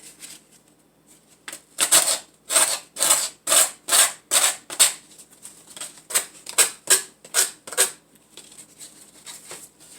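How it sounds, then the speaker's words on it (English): Sandpaper rubbed outward along the paper-covered edges of a Dollar Tree Easter decor piece, giving a run of about a dozen brisk, close scratchy strokes in a steady rhythm with short pauses between bursts. "Now when I sand the edges out, I do it outward so that it's not pulling up and unpeeling my paper."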